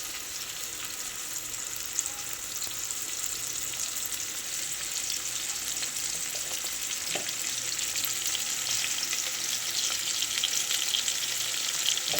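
Onion and green chillies fry in oil with a steady, bright sizzle that holds evenly throughout, close and unbroken, with a faint stir or two and no voices.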